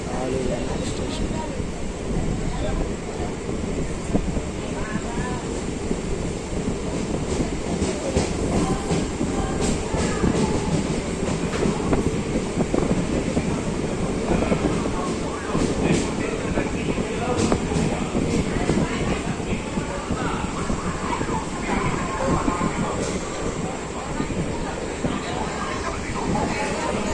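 A train pulls into Eluru railway station at night, a steady loud rumble and rattle of rolling cars filling the platform, with people talking over it throughout.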